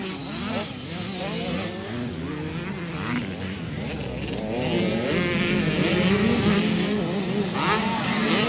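An 85cc motorcycle at a rural race in Lantapan, Bukidnon, buzzing past loud and close with a rising, wavering engine whine that swells toward the end, while a crowd and an announcer talk over it.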